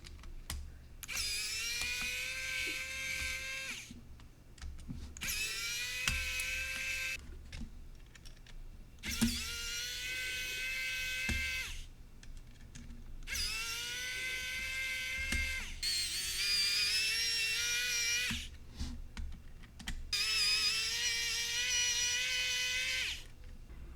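A small motorized screwdriver loosens Phillips size 0 screws on a Powkiddy X55 handheld game console, giving six separate whirring bursts of a few seconds each, with short pauses between them, close up and fairly loud.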